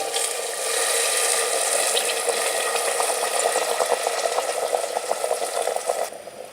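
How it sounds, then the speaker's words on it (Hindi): Boiled water pours into a pan of fried potatoes for an aloo shorba, a close, continuous splashing gush with faint bubbling and rattling that fades out near the end. No one speaks. "अब हम इसमें बॉईल किया हुआ पानी शामिल करेंगे।"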